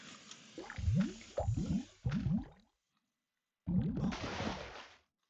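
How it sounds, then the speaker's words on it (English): A character drops into water in the video game Outlaws, making a series of close, wet squishy splashes and gurgles, a short gap of silence, then a broader bright burst of churning water. "That one we're going to drop down into the water."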